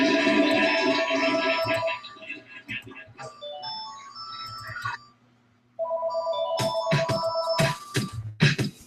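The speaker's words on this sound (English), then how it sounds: "I got a phone call here." A telephone ringtone plays as a bright, repeating electronic melody, loud and close, with a brief pause before the tune resumes, over background music during a talk show.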